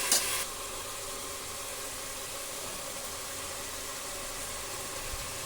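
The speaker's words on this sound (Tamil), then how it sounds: "தக்காளி போட்டிருக்கோம், கொஞ்ச நேரம் வதங்கட்டும்." Tomatoes sauté in a pan for chicken biryani, a soft, even hiss of frying that holds steady throughout with no talk.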